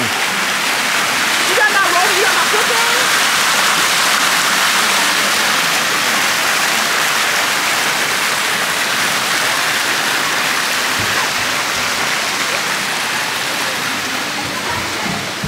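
A small water jet at a water park splashes in a steady, continuous rush of falling water, with a brief faint voice early on.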